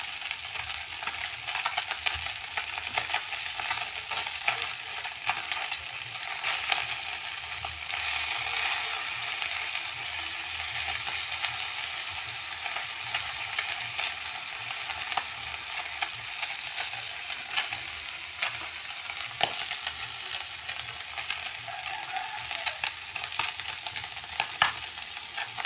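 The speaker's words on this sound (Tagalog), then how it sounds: "nagbabrown na po yung ating piniritong galunggong" Small round scad (galunggong) frying in a pan of oil, a steady continuous sizzle with occasional faint pops and stirring clicks, no voices.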